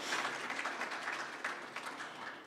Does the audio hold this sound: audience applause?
yes